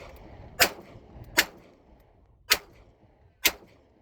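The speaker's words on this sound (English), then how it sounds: "Let's pop off a couple rounds pretty quick and see what happens." A Taurus 85 five-shot .38 Special revolver fires four sharp, loud shots in double action, spaced about a second apart, with quiet gaps between them.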